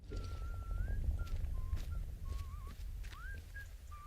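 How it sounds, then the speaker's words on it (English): A wavering, tuneful whistle drifts up and down in short phrases over a constant low rumble and faint background noise, near a tunnel in the video game Atomfall. "I hear whistling."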